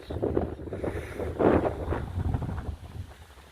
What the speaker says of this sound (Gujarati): પવન અત્યારે બહુ જ છે